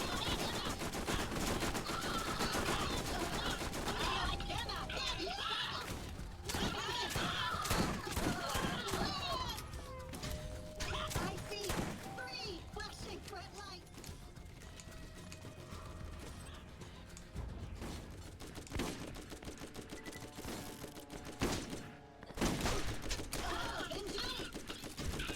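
Gunfire in the video game Borderlands crackles as dense rapid bursts of shots and mechanical clatter. The volume stays fairly constant throughout, with brief gaps between volleys.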